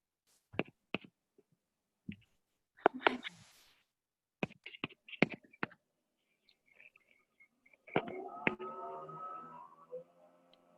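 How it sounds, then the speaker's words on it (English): Sparse clicks and taps in short irregular bursts, like keys being pressed, followed by a faint hum; fairly quiet overall. "we can really hear you typing"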